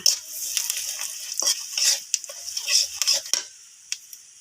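Whole five-spice seeds and two bay leaves hit hot oil for a chalta (elephant apple) pickle, giving a steady bright sizzle with scattered spoon and pan clinks close by, no voices.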